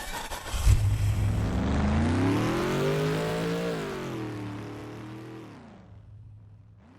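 A game-ready vehicle engine sound built in Unreal Engine 5 roars up in pitch, holds high, then falls away and fades as if receding into the distance, with no talking.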